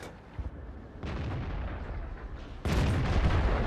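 Heavy booming cannon fire from a Hetzer tank destroyer in a game, with a loud blast near the start, sustained rumbling, and a bigger, harsher shot near the end.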